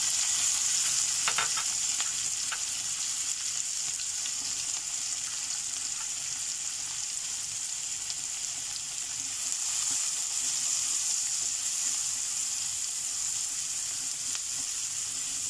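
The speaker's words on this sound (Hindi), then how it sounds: "अब ओनियन को फ्राई करना है" Onions frying in oil with white cumin seeds and asafoetida in a pan for keema lobia, a continuous close, loud sizzle with faint stirring clicks early on.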